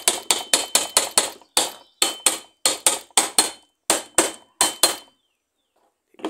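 Hammer tapping on parts of a washing machine motor being fitted, a close series of about sixteen sharp knocks in quick bursts with short pauses, then silence.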